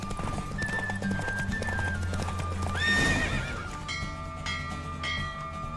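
Horse hooves pound steadily at a gallop during a horse race in The Witcher 3: Wild Hunt, and a horse whinnies midway, all under a constant background of music and game sounds.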